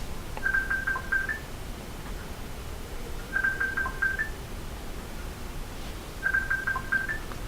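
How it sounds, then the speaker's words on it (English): A phone rings with an incoming call, three repeated electronic trill bursts spaced about three seconds apart, moderately loud over steady background hiss with no talking. "I'm getting a phone call right now."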